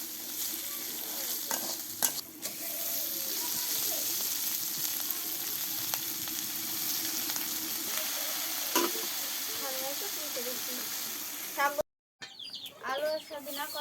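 Leafy greens stirred into a spice paste of ground spices and chopped garlic frying in a pan for a drumstick and pumpkin-flower curry, giving a steady sizzle with stirring scrapes, a hen clucking now and then in the background, and a brief pause near the end.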